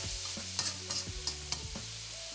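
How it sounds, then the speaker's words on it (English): Chopped onions sweat in a pan for chilli con carne over lowered heat, a soft sizzle broken by light spatula taps and scrapes, near and quiet with no talk. "It's quite important to always sweat your onion before you add other ingredients."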